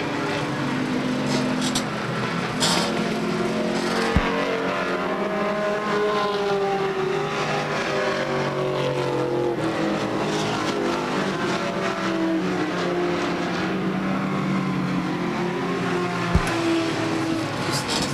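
Race cars at Beech Ridge Motor Speedway in 1991, engines droning and shifting in pitch as they lap the oval, a steady loud roar under a race announcer's commentary.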